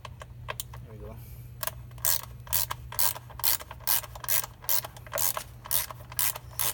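A ratchet wrench with an extension clicks in quick repeated bursts while loosening a stuck exhaust bolt under a car near the shock absorber, a steady low hum running underneath.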